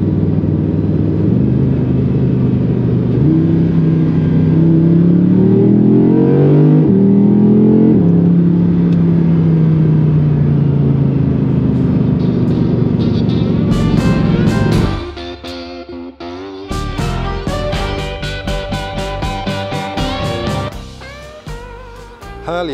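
A latest-generation Audi R8 V10 accelerates while driving, its engine rising through loud revving pulls with gear changes, then a sharper, crackling burst of engine sound near the end.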